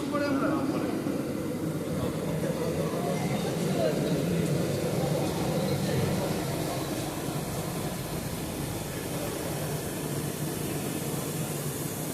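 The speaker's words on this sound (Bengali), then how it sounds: "পুরো 12 কোচের ট্রেন।" Ranaghat–Sealdah AC local train with 12 coaches, heard from inside as a steady, loud rumble and broad hiss of running wheels and air conditioning, with a faint murmur of a crowd underneath.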